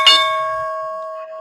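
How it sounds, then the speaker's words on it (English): A bright electronic market-style bell chime rings once as a near, clear tone with several steady harmonics, sustaining and slowly fading over more than a second with no voices. "Can you do the little market bell thing?"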